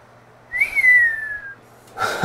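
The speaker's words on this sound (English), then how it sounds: "Whenever you hear the whistle, that means that it's perfect." A miter angle-finding tool gives a clear whistle that holds one tone and slides slightly lower for about a second, followed by a short breathy rustle.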